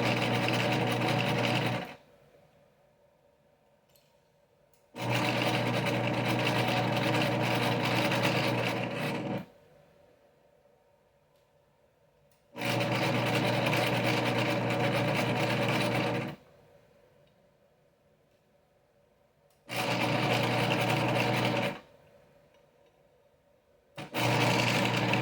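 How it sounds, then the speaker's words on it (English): A sewing machine stitches a dart in fabric, running in four steady whirring bursts of a few seconds each, separated by quiet pauses, close and clear with no voices. "Just sew your dart like you normally would."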